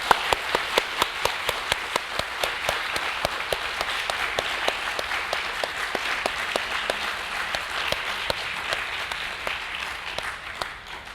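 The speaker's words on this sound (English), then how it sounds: "Let's give them a round of applause." An audience at a commencement awards ceremony applauds graduates, sustained crowd clapping throughout with one steady, loud clapper standing out in a regular beat, and the applause thins slightly toward the end.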